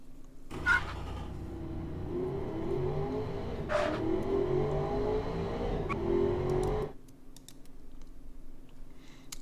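Simulated car engine revving and accelerating around a race track in the car-building game Automation, a steady loud drone with rising pitch through gear changes before cutting off abruptly, followed by quieter clicking.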